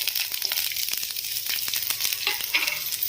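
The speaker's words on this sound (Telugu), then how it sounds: "ఆనియన్ అనేది మంచిగా గోల్డెన్ కలర్ వచ్చేంత వరకు కూడా మనం ఫ్రై చేసుకోవాలి." Thinly sliced onion with a green chilli and bay leaf sizzling steadily in two to three tablespoons of hot oil in a pan, a close, continuous crackling fry with no voices.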